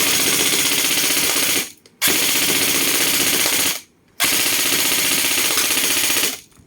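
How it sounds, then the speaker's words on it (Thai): An airsoft M4 rifle fed by an electric hi-cap magazine fires in long, loud, rapid full-auto bursts, three close strings broken by brief pauses. "เดี๋ยวลองเทสยิงกับกระบอกนี้นะครับ"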